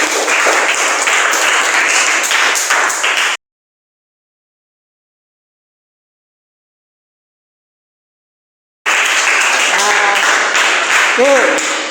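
Classroom applause breaks out after a Quran recitation lesson, dense clapping and chatter in two bursts separated by a long stretch of silence, with children's voices rising near the end.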